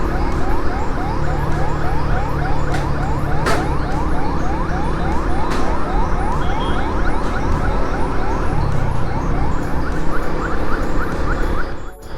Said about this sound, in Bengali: এত জোরে যে হুইসেলটা বাজতিছে শুনতে হবে না